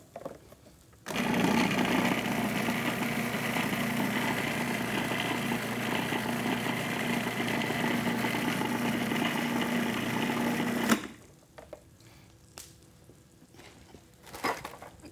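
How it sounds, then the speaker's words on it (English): Blender pureeing roasted red peppers, a loud steady motor whir running about ten seconds alone before stopping abruptly, followed by quiet kitchen clatter. "I have some roasted red peppers here, and I am going to puree them."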